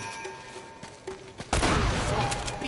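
Shotgun fire in a multiplayer video game: a few faint scattered pops, then a loud burst of blasts and rumbling gunfire over a continuous din.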